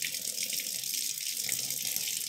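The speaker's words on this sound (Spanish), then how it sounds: "Ya está saliendo agua por los agujeros de drenaje." Water drains out through the holes in the bottom of a plant pot holding a Crimson Queen hoya just after watering, a steady close hiss of trickling water with no talk.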